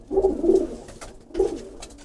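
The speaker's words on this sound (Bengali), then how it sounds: "এটা আমার সিলভার কবুতর" A silver racing pigeon in a loft coos up close in two distinct throaty bouts, a longer one followed by a short one after a brief pause, with no talking.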